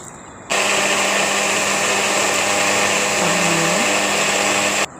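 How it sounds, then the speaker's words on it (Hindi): A kitchen grinder blending onions, garlic and green chilies starts abruptly and runs with a steady loud whirring whine for several seconds before cutting off. "तकरीबन 3 प्याज, लहसुन और हरी मिर्चें सब ग्राइंड कर ली हैं ताकि मसाला बहुत अच्छा ज़्यादा बने।"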